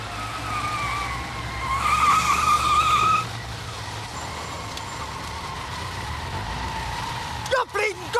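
A Ford Escort accelerating hard away through residential streets, its engine rising in pitch with a sustained tire squeal for a few seconds, followed by a calmer passing engine and a brief sharp burst near the end.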